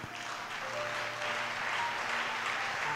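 A worship congregation claps and cheers for Jesus at a praise service, steady dense applause with crowd voices and faint sustained music tones underneath, loud and continuous throughout.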